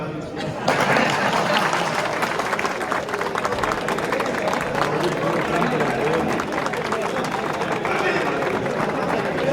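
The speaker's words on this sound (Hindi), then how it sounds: "ताली बजा दो।" An audience at a District Bar Association New Year 2024 gathering in Narnaul breaks into sustained clapping, a dense, even patter of many hands that starts abruptly and continues steadily, with murmured voices mixed in.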